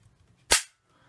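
One sharp crack from a pneumatic pistol, a single close, loud shot with a fast decay into near silence.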